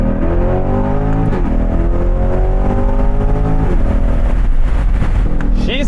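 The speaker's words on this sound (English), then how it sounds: "Let's go ahead and give her some full throttle and see what she feels like here." A C8 Corvette fitted with a C7 ZR1 LT5 throttle body accelerates at full throttle, its engine note loud and close as it climbs through rising pitch sweeps, with gear changes breaking the climb.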